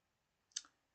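A single quick finger tap on a hard surface, sharp and faint, standing alone against near silence.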